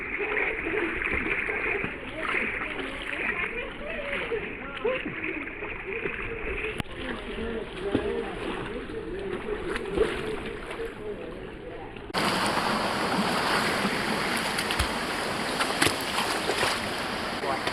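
Swimming through cold water in Dove Canyon near Cradle Mountain, Tasmania, with close, continuous splashing and sloshing that grows louder and more turbulent toward the end.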